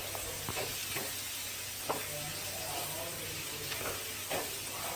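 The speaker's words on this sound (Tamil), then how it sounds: "சேர்த்து நல்லா கிளறி விட்டுக்கலாம்." Chopped tomatoes frying in a pan while being stirred, a soft, faint, steady sizzle broken by a few light scraping strokes from the spoon, with no one talking over it.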